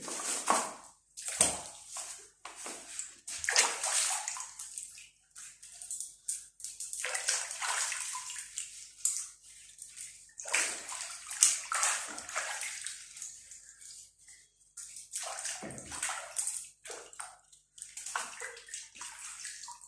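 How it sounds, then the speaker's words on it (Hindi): Vegetables are washed by hand in a bowl of water in a home kitchen, giving soft, irregular sloshing and splashing in repeated bursts, fairly quiet and close, with no talk. "मैं इसे फिर से दूसरे पानी में धो ले रही हूँ।"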